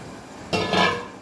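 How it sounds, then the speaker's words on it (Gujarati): Water poured into a simmering onion and potato curry in a hot pan, a brief close burst of hissing and splashing that swells and then fades within about a second. "મોટું પાણી એડ કરીશું એમાં."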